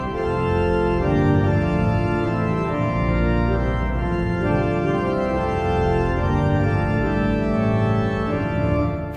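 An Austin pipe organ with five manuals plays its grave mixture combined with foundation stops, producing a dense, full chordal sound that is loud and sustained, with slowly shifting harmonies and no voices.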